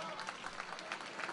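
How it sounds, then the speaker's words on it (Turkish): Applause at a wedding celebration, a continuous patter of crowd clapping heard at moderate distance. "Alkışlar Cengiz ve Kadir'e gelsinler dostlar."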